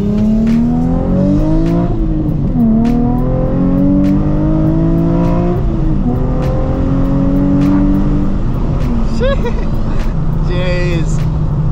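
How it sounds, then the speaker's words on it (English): A Nissan 350z accelerates hard, its engine revving up through rising pitches with brief drops between gears, loud and close from inside the car, ending with tire chirps and squeals as traction breaks. "So quality tires are a must, because these things are pretty powerful."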